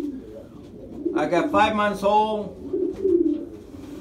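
Racing pigeons coo in a cage, a close run of rolling, throaty coos in the middle with softer cooing around it, and someone speaks briefly over them.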